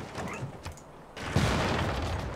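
Field cannon firing in the strategy game Civilization VI: a broad, loud blast sets in near the midpoint and carries as a sustained noisy roar after a quieter rumbling lead-in, with no talk.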